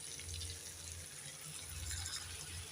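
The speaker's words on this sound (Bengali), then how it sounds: "দিয়ে দেব সামান্য জল" Water poured into a pan while data chorchori (drumstick curry) cooks with turmeric, chili powder and ground spice paste, a steady close splashing pour running throughout with no talk.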